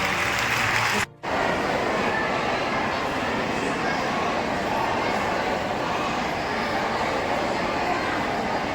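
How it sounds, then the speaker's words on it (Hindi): Dense, loud applause from a crowd welcoming a team at an honouring ceremony in a hall, continuous and steady after a brief cut near the start. "हमारे साथ जोरदार तालियों से स्वागत करेंगे"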